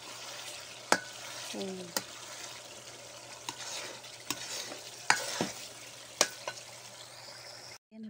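Coconut latik frying in oil in a pan sizzles steadily up close while a utensil scrapes and knocks against the pan in irregular stirring strokes; a voice says a brief word.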